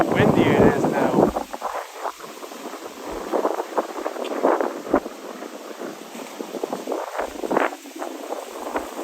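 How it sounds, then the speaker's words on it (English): Strong wind gusts buffet the microphone on a Tokyo street, rumbling in uneven bursts with voices in the background. "Look how windy it is now."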